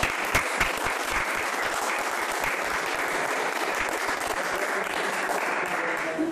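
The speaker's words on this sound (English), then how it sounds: "Right, so round of applause." A room of attendees at a highways hackathon show-and-tell claps together in a sustained, even burst of applause, moderately distant, holding steady throughout.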